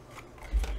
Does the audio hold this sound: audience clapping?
no